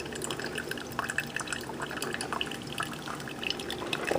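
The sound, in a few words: single-serve coffee maker brewing coffee into cup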